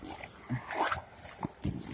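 A pit bull plays with a stick in the snow, giving short whimpers and low growls in scattered bursts, close and moderately loud.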